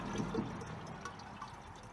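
Distilled water is poured into a car's cooling system, giving a soft, close gurgling trickle and splash that runs steadily for a couple of seconds at low volume.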